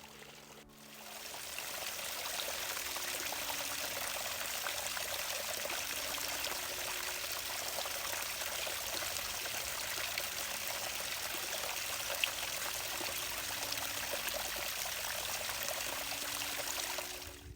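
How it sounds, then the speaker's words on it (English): Steady water trickling through peat in Slishwood Forest, Sligo, a continuous close wash of liquid that runs unbroken from start to finish with no voices. "In certain parts of the forest, water trickles through the peat."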